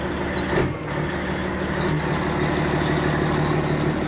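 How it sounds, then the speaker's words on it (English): A Peterbilt truck engine runs steadily and loudly throughout, a continuous low rumble with a brief louder surge near the start, with no talking over it. "Truck's definitely louder"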